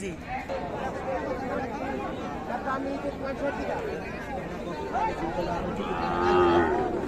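Cows moo at a busy cattle market at Raniganj haat in Dinajpur, with their lowing mixed into constant crowd chatter and nearby voices talking.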